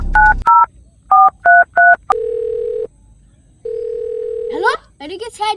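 A telephone being dialed: six short, evenly paced keypad tones, then one long steady tone, then a stretch of warbling electronic chirps, all loud and close.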